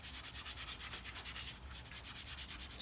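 Yorkshire grit sanding a turned wooden crotch pot on a lathe, a close, rapid rhythmic rubbing hiss pulsing steadily as the spinning wood passes under the abrasive.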